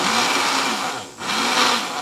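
A kitchen blender labors while grinding a heavy load of jackfruit, its loud steady whine straining and dipping briefly mid-way before surging back up.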